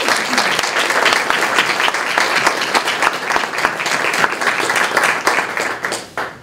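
A school audience applauds with dense, sustained clapping at a performing arts gathering, holding steady for several seconds before fading out at the end.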